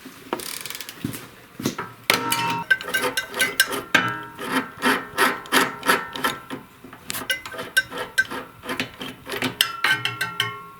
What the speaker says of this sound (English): I like to use this spark plug wrench here with my ratchet.